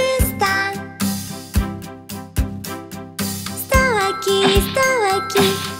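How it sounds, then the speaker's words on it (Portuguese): Christmas bells jingle in rhythmic shakes through a cheerful Portuguese-language children's Christmas song, bright and prominent alongside the backing music. "Sino de Natal, onde está?"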